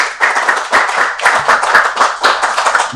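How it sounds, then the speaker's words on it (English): An audience at a lead-generation seminar claps for an expert panel, loud and close, with several rhythmic bursts of hands that swell and dip in waves before fading. "Please make a round of applause for that."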